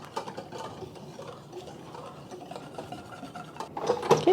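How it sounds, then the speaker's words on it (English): BBQ sauce ingredients, including liquid smoke and water, being whisked in a bowl, a soft continuous scraping and stirring that grows louder and clinks near the end. "we're just going to give this a whisk. Get all the ingredients mixed together."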